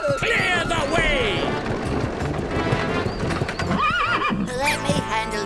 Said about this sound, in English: I see my horse likes you, Charming.